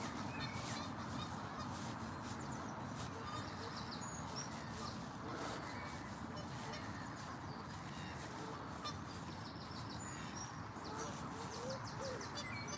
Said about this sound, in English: And a goose.